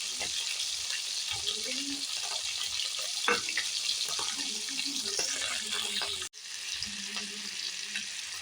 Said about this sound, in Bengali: ডিমগুলো হালকা করে ভেজে নেব।